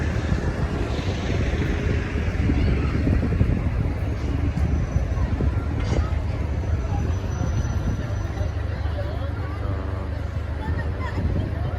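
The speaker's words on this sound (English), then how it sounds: "it's getting a little bit breezy now, which is good, but bad for the tripod" Outdoor breeze buffets a handheld microphone on a humid day, a constant low rumble and rushing, with faint distant voices underneath.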